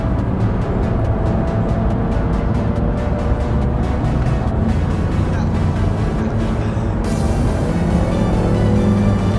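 Engine noise from a drag race in the Need for Speed video game, with cars including a Turbo Renault, Honda EP3 and 350z: a loud, steady, dense roar held throughout, with no break or pause.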